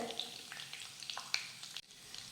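Crushed garlic cloves and curry leaves frying in hot oil, a steady soft sizzle with light crackles and a few stirring scrapes, a brief dip near the end, no talking.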